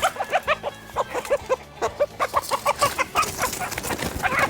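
Clucking from León roosters, rapid repeated clucks in short bursts close by, with a crow-like call and more clucking later over farmyard background noise.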